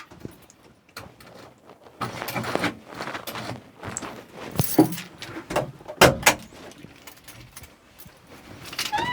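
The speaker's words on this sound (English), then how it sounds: "Key out of ignition." A key jangles as it is pulled from the ignition of a Moxy articulated dump truck. Keys rattle in several brief, faint bursts inside the quiet cab.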